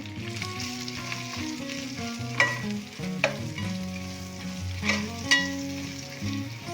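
Ground coriander and cumin powder fry in a pan for an Andhra-style fish curry, a soft continuous sizzle with a few light scrapes of the spoon.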